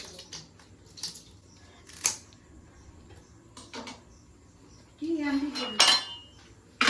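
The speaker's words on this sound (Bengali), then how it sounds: "মাছটা খুব সুন্দর আঁশ ছাড়িয়ে নেওয়া হচ্ছে চামচ দিয়ে" Intermittent short scraping and clinking bursts of a spoon rasping fish scales, separated by quiet gaps, with a longer scraping stretch near the end.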